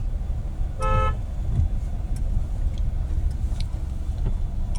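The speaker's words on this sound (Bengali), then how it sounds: "হর্ন মারতে থাকো" A car horn gives one short toot in a narrow lane, over the steady hum of a car engine and nearby road traffic.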